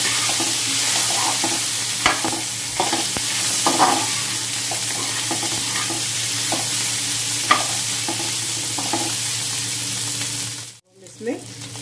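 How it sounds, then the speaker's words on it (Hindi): Potatoes fry in a pan with black pepper and asafoetida, stirred throughout: a steady close sizzle with irregular scrapes and knocks of the spoon over a low constant hum, ending in a brief dip. "अब ये हम इसमें आलू डाल देंगे।"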